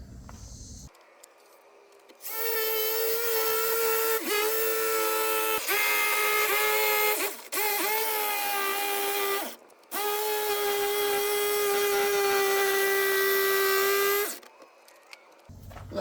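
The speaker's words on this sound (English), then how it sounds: "Even bought a brand new Walmart jigsaw just for this project." A brand-new Walmart jigsaw cuts through the wall of a cargo trailer, a loud, close, high whine that drones steadily with a few brief dips and two short stops, running alone without any voices.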